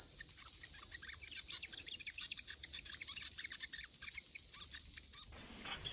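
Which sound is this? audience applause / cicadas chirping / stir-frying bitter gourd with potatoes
cicadas chirping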